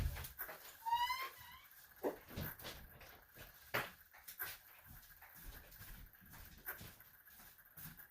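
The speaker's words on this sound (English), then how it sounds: "I have a dog who needs to go outside." A dog waiting to be let outside gives a few faint, high whimpers early on, set amid soft indoor thumps and rustles in a quiet room.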